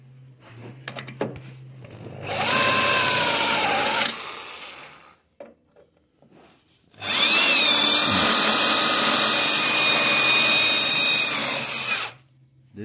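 A power drill whirs in two loud bursts on steel panels of a 1973 Citroën DSuper5, a shorter run then a longer one, with quiet pauses and small knocks between.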